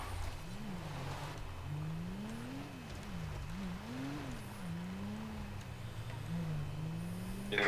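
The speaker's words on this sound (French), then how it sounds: "Il y a une voiture devant." A car driving ahead on the road, its faint engine hum rising and falling in a wavering pattern, quiet and steady throughout without speech.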